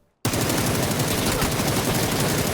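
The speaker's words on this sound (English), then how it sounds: "There's a guy actually shot us in the back" Sudden loud automatic gunfire in PUBG on the Erangel map, a rapid continuous burst of shots that starts abruptly after a brief silence and keeps hammering without a break.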